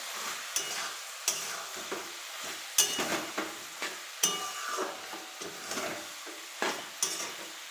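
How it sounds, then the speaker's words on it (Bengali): Shrimp and spinach being stirred in a frying pan, with sharp repeated scrapes and clinks of a utensil over a steady sizzle, close and alone with no talk. "ভালো করে নেড়ে নেবো এমনভাবে।"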